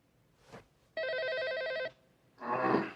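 Telephone ringing indoors, one loud electronic warbling ring lasting about a second, clear and close, between a brief soft noise before it and a rustling sound after.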